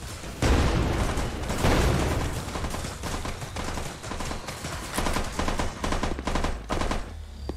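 Gunfire in a VR video game, dense rapid bursts of automatic shots and booming blasts filling the whole stretch, loud and continuous with no talking.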